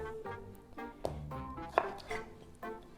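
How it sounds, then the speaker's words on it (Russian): A knife chops through a blanched, peeled tomato on a cutting board, a series of crisp, irregular cuts close by, with no talking. "И нарезаю помидор"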